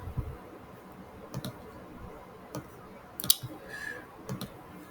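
Sparse keystrokes on a computer keyboard, a few separate close clicks spread out and fairly quiet over faint room hiss, with no talk.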